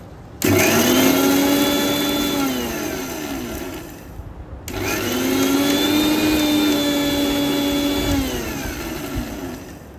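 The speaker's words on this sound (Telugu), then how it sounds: "ఇప్పుడు మిక్సీ పడదాం." An electric mixer grinder grinding spice powder for stuffed brinjal runs in two loud, steady whirring bursts of a few seconds each, its pitch sagging under load, with a short pause between.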